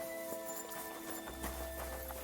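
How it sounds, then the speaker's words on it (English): A horse named Herring in the video game Kingdom Come: Deliverance 2 clip-clops along with faint, regular hoofbeats under a low steady background hum, with no talking. "Yeah, the horse is called Herring."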